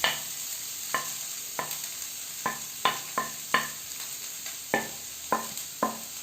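Chicken thoran is mixed in a pan with repeated sharp spoon-against-pan scrapes and clinks at an irregular rhythm, close and distinct over a faint steady background hiss.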